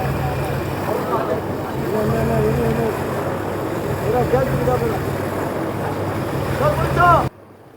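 Steady motorboat engine drone on the sea with wind and water wash, a low rumbling hum running throughout before cutting off abruptly near the end.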